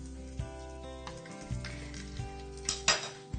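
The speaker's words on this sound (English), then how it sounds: "you wait for your mustard seeds to pop just slightly" Mustard seeds and curry leaves sizzle in hot oil with green chilies for a mushroom, capsicum and green bean curry. A spoon clinks and stirs against the pan in several scattered knocks over a low hiss.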